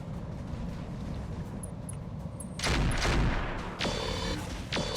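Mechs trade gunfire in the RogueTech mod of BattleTech: a low rumble gives way to a heavy burst of booming shots, then a few sharper separate blasts near the end, with no talking.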